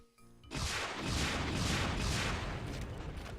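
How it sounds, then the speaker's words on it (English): A rocket launcher fires in a Doom map, and a heavy explosive roar bursts in after a quiet moment, then rumbles on in rolling, pulsing waves of blast noise. "And now, we might show the rocket launcher some love."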